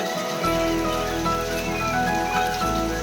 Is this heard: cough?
no